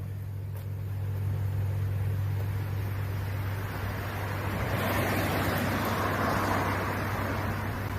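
A truck idles nearby on a Philadelphia street during an evening of protests and curfew, its steady low engine rumble running throughout beneath broad street and wind noise, with no talking.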